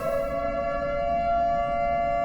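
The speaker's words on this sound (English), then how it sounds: "the sirens automatically go off when they can detect an imminent explosion" A nuclear warning siren from the Minecraft Alex's Caves mod blares as a loud, steady, sustained tone with layered harmonics and no voices over it.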